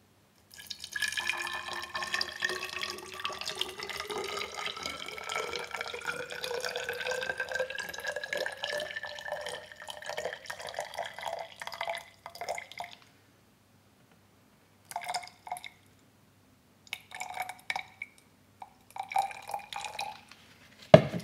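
Pure water trickles and pours into a tube for pottery ash glaze mixing, a thin continuous stream with rising pitch as it fills for several seconds, then separate short drips and splashes after pauses, close and quiet.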